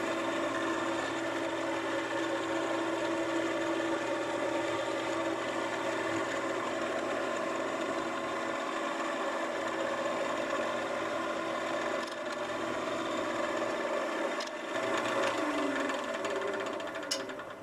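A wood lathe spins steadily while a Christmas tree ornament is parted off, giving a continuous mechanical whir with tonal hum and a few faint scraping and ticking touches near the end.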